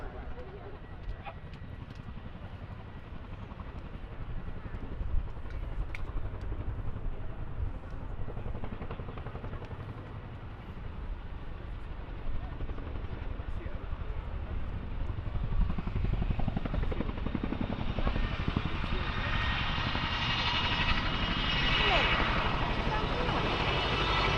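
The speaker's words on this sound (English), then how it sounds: "As the aircraft repositions once more" A military aircraft repositions at the Farnborough International Air Show 2024 with a continuous engine roar. It swells louder and brighter toward the end, heard outdoors at a distance.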